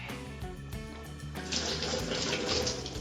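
Water from a tap splashing over green chillies being rinsed in a home kitchen, a steady close rush of running water that starts midway after faint clinks and continues alone.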